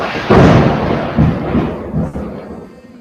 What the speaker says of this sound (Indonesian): Wah, ada petir ya guys.